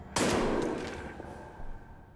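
A single gunshot in Amnesia: The Bunker cracks out sharp and loud, then dies away through a long, rumbling echo with a faint thud near the end.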